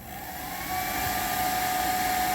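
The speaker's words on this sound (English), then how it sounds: "So now let's turn the hairdryer on low." A hairdryer set to low, powered through a VEVOR 12-volt 3600W inverter, blows with a steady airy whoosh and faint motor whine that swells slightly in the first moment and then holds constant, close and alone.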